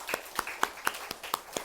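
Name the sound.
church congregation clapping for parents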